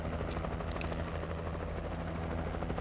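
Helicopter in the Alan Wake Remastered video game, a steady, loud rotor drone with a low, continuous thrum that holds even throughout, no voices over it.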